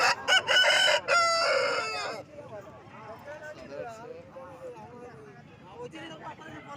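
At a village chicken market, a rooster crows loudly up close, then hens keep up a soft, scattered clucking and murmuring in the background.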